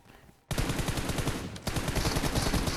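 Rapid automatic gunfire in PUBG Mobile, two loud close bursts of fast rhythmic shots broken by a brief gap, starting abruptly after a quiet moment.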